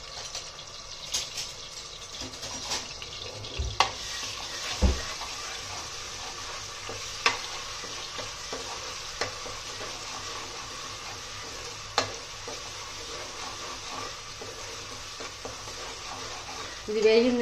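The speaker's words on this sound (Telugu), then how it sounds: "ఇప్పుడు దీనిలో అల్లం వెల్లుల్లి పేస్ట్ వేస్తున్నాను. పచ్చివాసన పోయేదాకా వేపుకుందాం." Ginger-garlic paste frying in hot oil in a pan for chicken curry, a steady close sizzle broken by occasional knocks and scrapes of stirring.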